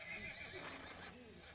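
A horse neighs in a faint, quavering whinny during an animated episode, mixed under a dense soundtrack with voices.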